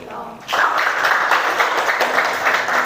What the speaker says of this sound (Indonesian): beri tepuk tangan untuk teman kalian nanti ya.